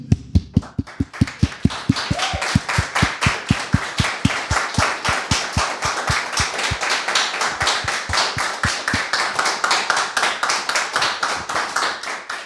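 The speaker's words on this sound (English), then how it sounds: "I want to applaud you." Audience applause at the Sonoj 2018 farewell gathering, loud, steady rhythmic clapping in unison from a small crowd, sustained for the whole stretch with a near, dense texture.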